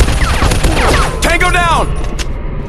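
Rapid gunfire in the zombie shooting game Zombies Fire Strike: dense bursts of shots with mechanical clatter. An announcer's voice calls out over the firing in the middle of the clip.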